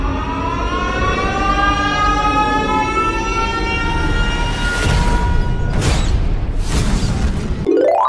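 A long, loud wailing siren from the Siren Head monster in a video game, wavering harmonic tones rising and falling over several seconds, joined by heavy rumbling crashes near the end.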